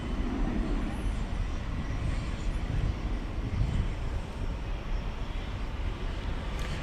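An American Airlines airplane roars on the runway at DFW airport after dark, a broad steady jet engine rumble filling the whole stretch at moderate distance.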